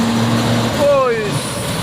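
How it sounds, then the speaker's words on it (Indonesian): A empty trailer truck climbs an uphill road, its heavy engine droning steadily with a brief rising whine as it strains, traffic noise and voices mixed in around it. "Truk trailer ini langsung ngejit."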